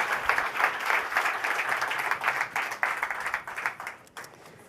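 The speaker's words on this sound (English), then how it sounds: "Please give them a round of applause." An audience at a climate action summit on food breaks into a round of applause, steady and fairly full, tapering off near the end.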